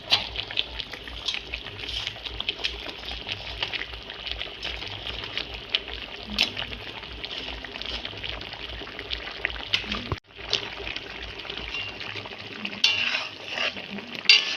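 Pabda fish being stirred in mustard paste with turmeric and green chilli in a pan, a busy wet scraping and sizzling that keeps going with scattered clinks and a short break near the end, with no talk.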